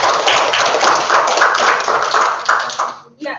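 Dense, continuous clapping from an online class group applauding a student, a steady patter of many hands over about three seconds, then a brief pause and a few trailing claps.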